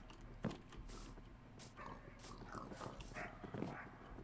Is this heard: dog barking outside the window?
yes